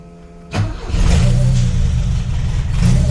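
A supercharged Chevrolet Chevette engine cranks and catches after a half-second of quiet, then settles into a loud, rough running rumble with slight revs.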